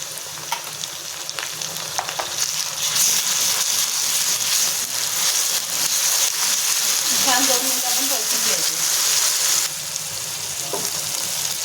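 Ginger, garlic, green chili and coriander paste frying in a pan with curry leaves, a steady bright sizzle with occasional stirring scrapes, close and continuous, and a voice talking faintly beneath.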